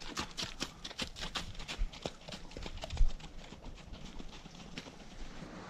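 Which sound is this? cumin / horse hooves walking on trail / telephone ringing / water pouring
horse hooves walking on trail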